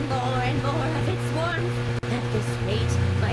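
Car driven fast in the video game Deadly Premonition, a steady engine drone running throughout under continuous talking, with a brief dropout near the middle.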